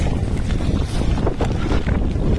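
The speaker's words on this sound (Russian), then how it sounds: "Все еще дует прохладный ветер." Steady, loud rush of cool wind buffeting the microphone during a road bike ride out of Yakutsk on the Ust-Khatyn route, continuous broadband roar with no talk.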